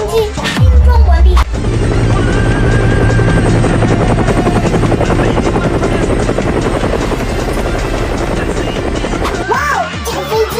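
A helicopter sound effect plays for an assembled toy building-block gunship: a loud, continuous rotor drone with rapid chopping pulses that holds steady for about ten seconds, preceded by a brief low buzzing burst and ending abruptly.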